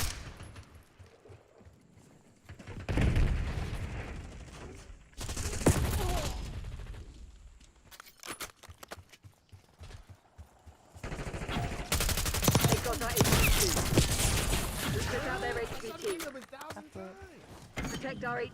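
Video game gunfire with bursts of rapid automatic shots and heavy volleys separated by quieter gaps, mixed with game voice lines and talk.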